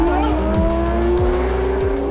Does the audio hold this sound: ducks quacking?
no